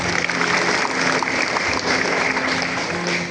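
Steady applause from an audience of students and parents at a high school character education closing event honouring mothers, a dense, continuous patter of clapping throughout with no gaps.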